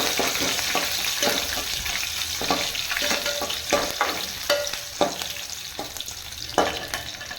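Garlic with green and dried red chillies sizzle and crackle loudly in tempering oil for a South Indian rice dish, a dense continuous fry with repeated stirring spatters.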